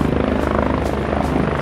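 Military helicopter in the Squad game thrums with a steady, loud rotor beat and engine drone, close and continuous through the short stretch, with no voices.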